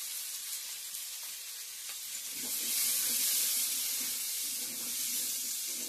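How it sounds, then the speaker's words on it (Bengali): Chickpeas sizzle steadily in a hot pan with salt and turmeric for ghugni. The frying hiss swells louder about halfway through and then holds, close and continuous, with no talking. "ভালো করে ভাজা ভাজা করে নিই"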